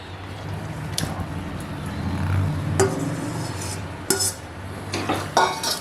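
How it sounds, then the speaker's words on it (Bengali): Fried pointed gourd pieces being added to a pan of sautéed spices with a metal spoon, giving a few sharp clinks and scrapes against the pan over a low background hum. "এবার আমি এতে ভাজা পটলগুলো দিয়ে দেব"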